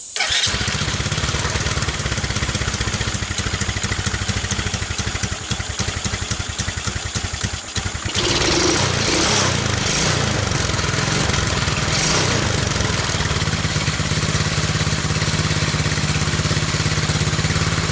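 A TaoTao ATA 135D ATV engine cold-starts on choke, cranking and catching, then settles into a loud, steady, buzzing idle recorded close to the tailpipe.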